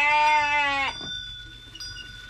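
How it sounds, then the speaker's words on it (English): A single loud, wavering sheep bleat lasting just under a second, followed by near quiet with faint background sounds. "let's let the sheep out"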